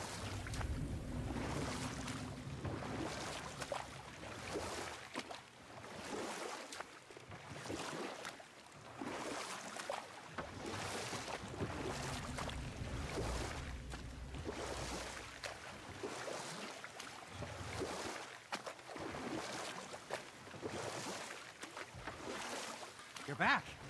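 Oars paddling a small boat across water in God of War, rhythmic repeated splashing strokes with a soft watery wash, fairly quiet beneath a person talking over it.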